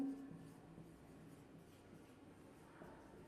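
Chalk or marker writing on a board during an English grammar lesson, faint soft scratching strokes in a quiet room.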